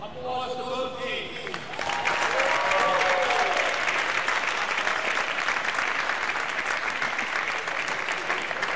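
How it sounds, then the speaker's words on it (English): After a short stretch of talk, crowd applause for both teams erupts at the trophy presentation of the National Soccer League finals and continues steadily to the end. "Applause to both teams."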